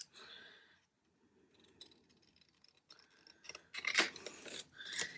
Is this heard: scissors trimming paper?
yes